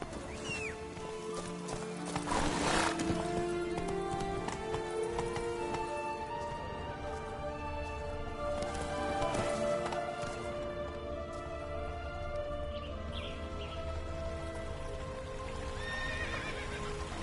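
Hoofbeats of Roach, the horse in the Witcher 3 video game, drum steadily for the whole stretch, with a whinny near the start and a busy, loud game soundscape of music and effects layered over them.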